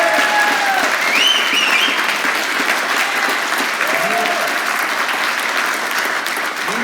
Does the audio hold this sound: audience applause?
yes